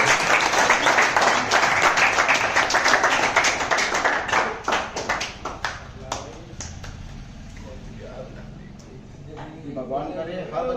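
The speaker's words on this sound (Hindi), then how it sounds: "नवीन के लिए जोरदार तालियां।" Loud applause for a successful candidate at a sweets celebration, dense clapping that thins into scattered claps midway, with voices and chatter continuing underneath as it dies down.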